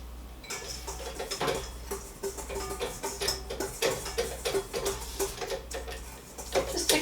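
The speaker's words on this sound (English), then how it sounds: "sugar, milk powder, and I'm going to whisk that up" Sugar and milk powder whisked together in a bowl, a quick, uneven run of light metallic ticks and scrapes against the bowl, close and moderately loud, with a faint low hum underneath.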